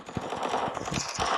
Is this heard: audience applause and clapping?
no